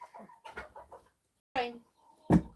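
A rooster on a farm during animal feeding, giving a few loud, close clucks and squawks in short bursts amid a scuffle, with someone talking at the start.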